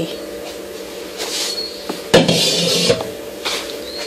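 A metal lid lifts off an electric pan with a sharp clatter and a short scraping rub, close by, over a faint steady hum.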